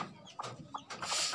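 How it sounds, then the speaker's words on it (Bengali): Chicken chicks kept in a drum rather than a cage give a few short, close clucking and peeping bursts over roughly a second and a half, with no talk. "মুরগির বাচ্চা।"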